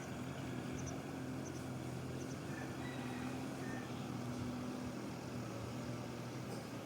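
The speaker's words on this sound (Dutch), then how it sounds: "Daar gaat een trekker in het water." A tractor drives through a river in Pai, Thailand, giving a steady, low engine drone that holds at moderate distance throughout, with a faint wash of water noise beneath.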